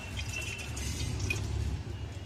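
Hot oil drips steadily off crisp deep-fried hingcha (water cress) greens chops as they are lifted to drain, soft continuous patter and faint sizzle close by, over a low kitchen rumble, with no talking.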